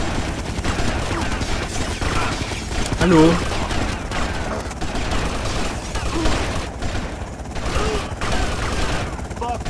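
M4 rifle fire in the video game GTA Vice City Stories rattles in dense bursts under game sounds and someone speaking German.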